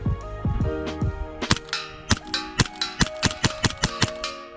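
A custom airsoft Hi-Capa pistol fires on gas and HPA, making sharp, close, cracking shots. A few scattered shots lead into a quick, fairly regular string of about a dozen more.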